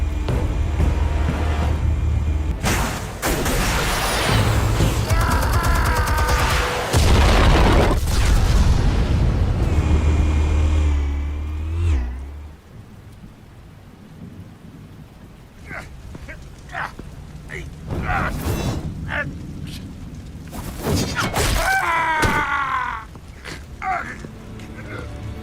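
Explosives detonating in the Batman Telltale Series video game: a long, loud rumbling blast with heavy low roar and debris-like crackle, then quieter sharp bangs and a second burst of noise, with game voices mixed in.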